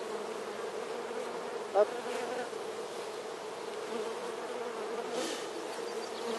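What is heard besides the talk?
honeybees buzzing during a hive transfer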